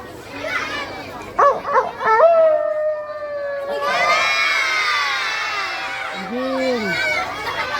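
Children's voices imitate a wolf howl during an Islamic children's storytelling session set in a forest: a long drawn-out wavering howl, then a rising and falling call, over a noisy crowd of shouting children.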